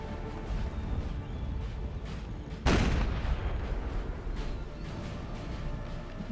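Cannon fire in the game Napoleon Total War: a steady battlefield roar of distant artillery and musketry, broken by one loud, sharp nearby cannon blast whose boom rolls off over the following seconds.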